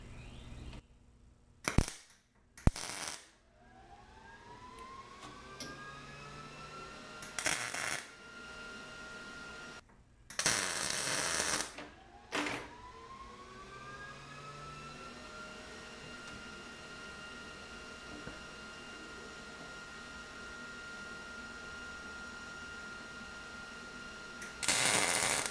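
Tack welds on a coil mount for a Jeep XJ trail buggy, heard as a few short, sharp crackling bursts that stand out loudly against a quiet shop background with a faint steady hum.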